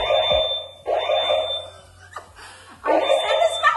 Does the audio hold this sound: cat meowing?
no